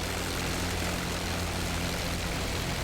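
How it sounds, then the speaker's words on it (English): Messerschmitt Bf 109 piston aircraft engine running in the DCS flight simulator, a dense, steady rumbling drone with a low throbbing hum, loud and continuous throughout with no talk over it. "engine's running"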